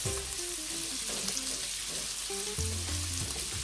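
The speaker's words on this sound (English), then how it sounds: "adding my scotch bonnet pepper now, and we'll continue to saute that" Scotch bonnet pepper sautés with green bell pepper and thyme in a pan, a continuous bright sizzle near and loud, with faint background tones underneath.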